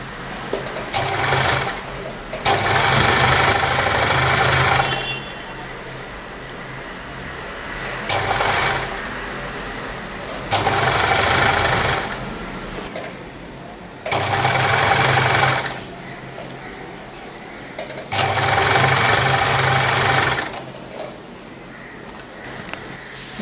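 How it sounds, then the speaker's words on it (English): A sewing machine stitches the pleats of a Patiala salwar in five bursts of steady mechanical whirring, each a few seconds long, separated by short quieter pauses, close and loud with no talking. "Now I am going to stitch the pleats."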